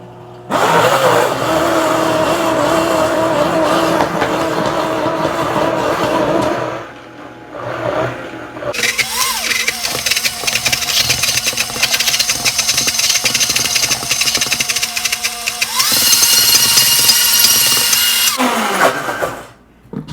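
A blender mixes thick plant-based paleo chocolate ice cream, its motor whining loudly and close, labouring and briefly stopping, then restarting and rising in speed over about twenty seconds.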